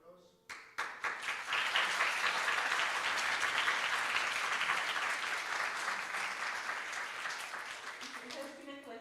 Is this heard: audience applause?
yes